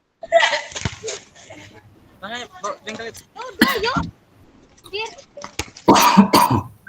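Several harsh coughs in separate bursts, close and loud, with a few brief throat sounds between them.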